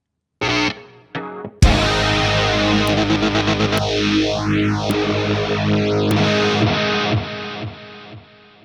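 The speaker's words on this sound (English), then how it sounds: "we're taking a look at the Lizard Queen Octave Fuzz pedal" A heavily distorted electric guitar through an Electro-Harmonix Lizard Queen octave fuzz pedal plays loud chords and a sweeping bend up and down, with a thick octave-doubled buzz ringing out alone.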